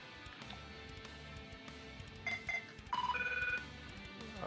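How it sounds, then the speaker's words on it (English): A phone ringing with an incoming call: short electronic ringtone tones sound twice, then a longer higher tone, fairly close and moderately loud over a quiet background. "Like a phone call from Florida."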